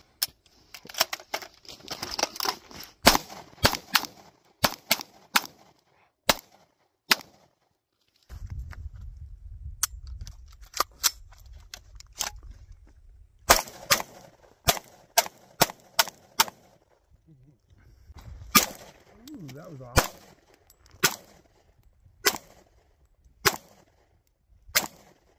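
Sharp gunshots at an outdoor shooting range, single loud cracks spaced irregularly with some quick pairs, each with a short echo tail, nearby and prominent over faint background voices.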